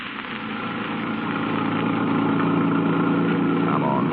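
A car engine runs steadily for a radio drama scene, a continuous idling drone that rises slightly and then holds even throughout.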